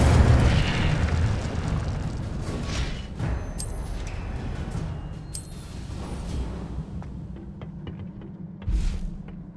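An Incendio fire spell cast in Hogwarts Legacy bursts with a loud whooshing blast that fades into a rumbling roar. Sharper sparkling flares follow, and another burst rises near the end.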